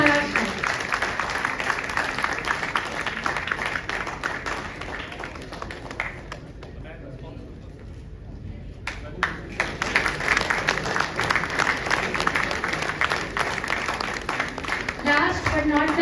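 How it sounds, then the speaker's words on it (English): Audience applause at a JECRC Incubation Center startup event, broad sustained clapping from a large crowd that fades briefly midway, then swells again with voices mixed in. "Please give a big round of applause to Tarun Saraswat."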